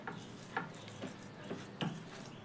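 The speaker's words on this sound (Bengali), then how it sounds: "এবার স্প্যাচুলা দিয়ে খুব ভালোভাবে বন্ধুরা আমি এটাকে একটু ভালো করে মিশিয়ে নেব।" Semolina mixed with a spatula for a healthy tiffin recipe, with no water added. Soft, gritty scraping and stirring strokes repeat roughly every half second, quiet and close, with no talking.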